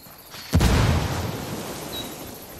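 A frag grenade blows up in Ghost Recon Wildlands: one sudden, loud, close boom with a deep low thump, then a rumbling tail that fades slowly across the next two seconds.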